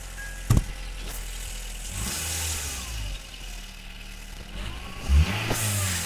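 An electric pump runs while inflating a bicycle inner tube during a tube change, giving a steady mid-pitched motor drone with a couple of sharp clicks and a brief louder surge near the end.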